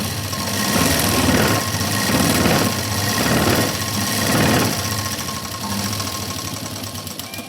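Sewing machine running a second line of stitching on a blouse, a steady close mechanical whir with gently pulsing rhythm throughout, no talking.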